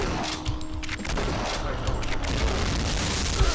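Gunfire and booming explosions from the video game Doom as a zombie shoots the player in the back, a dense continuous barrage of shots and blasts at steady loudness.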